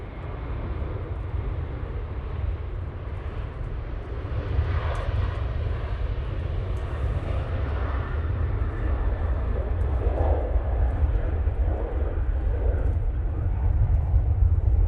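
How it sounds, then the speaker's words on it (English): Loud, steady jet engine roar from an aircraft at Manchester Airport, a deep, broad rumble that holds and builds slightly over the whole stretch, with no talk over it. "It is getting busy here now, here at the airport."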